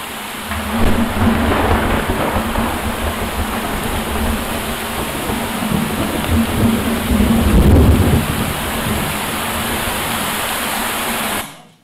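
Rain and thunder heard from beneath the water surface: a dense, constant hiss of drops with deep rumbling swells, one heavier roll near the end, no voices.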